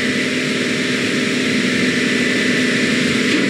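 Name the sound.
DC-3 taking off in Microsoft Flight Simulator video game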